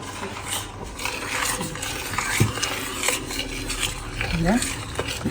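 A spoon scrapes and stirs porridge in a pot, steady clinking and scraping strokes throughout, with faint background voices.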